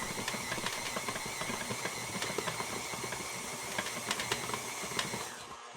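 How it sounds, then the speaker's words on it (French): A stand mixer kneads stollen dough at speed 4, giving a steady, close whirring hiss with small rhythmic knocks throughout, no voices. "je vais augmenter la vitesse de mon robot sur une vitesse 4. Et je vais continuer de pétrir pendant au moins 8 minutes"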